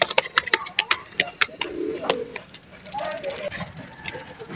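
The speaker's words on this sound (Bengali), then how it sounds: "আমরা আরও একটা পাখি কবুতর জাবরার ভিতরে" A pair of pigeons, a male and a female, cooing inside a cage at a pigeon seller's; a low coo rises briefly amid sharp clicks and rustling, with people talking nearby.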